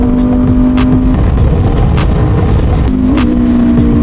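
Yamaha R7 motorcycle engine droning loud and close at speed, with quick auto-blip revs during downshifts briefly lifting and dropping the pitch, steady wind noise underneath.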